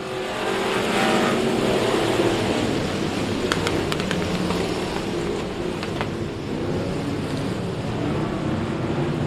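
Modified race cars roaring together at the start of a 16-car, 12-lap race at Kennedale Speedway, a loud dense wash of engines accelerating with a few sharp ticks and pops, steady and fairly close throughout.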